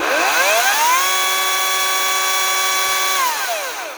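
A Ryobi chainsaw's motor revs up loud and close, holds a steady high whine for a couple of seconds, then winds down.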